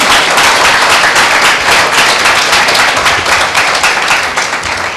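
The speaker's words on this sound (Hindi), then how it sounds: "ऐसे परमेश्वर को क्या हम जोरदार ताली दें?" A church congregation at a Tuesday meeting applauds loudly and continuously, a dense wash of clapping that fills the room throughout without pause.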